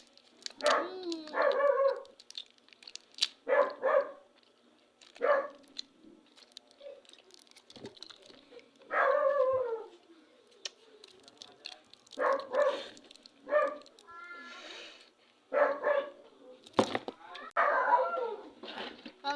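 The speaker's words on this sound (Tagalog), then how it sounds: "maingay kasi yung aso" A dog barks in short bursts several times, close by, with a few longer yelping calls and quiet pauses between them.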